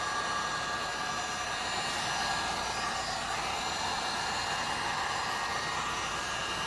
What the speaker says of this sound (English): I'm going to put the heat gun on low.